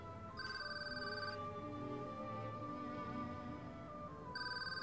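A telephone rings indoors in a repeating electronic bell pattern, two rings separated by a pause, fairly quiet against a low background hum.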